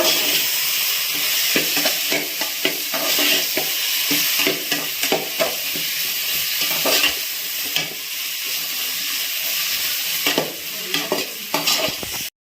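Smashed potato stirred into a frying mixture in a pan for poori sagu sizzles continuously, with a ladle scraping and tapping the pan in irregular strokes, close and loud, with no one talking.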